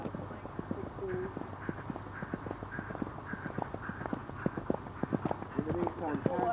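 Horse hooves drum over a cross-country eventing course as Michel Barber rides the old horse Chas, a quick, steady clip-clop close by, with faint voices in the background.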